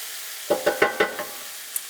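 Garlic and fresh ginger frying in a pan, a soft sizzle broken by five quick stirring scrapes in a row, then a faint tap, close and fairly quiet.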